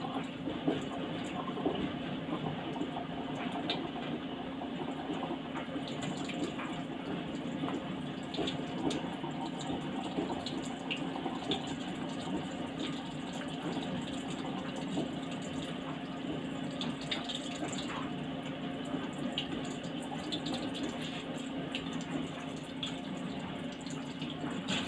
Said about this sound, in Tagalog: Ito, butasan natin dito para tumuro yung tubig.